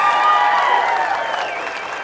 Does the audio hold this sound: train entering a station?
no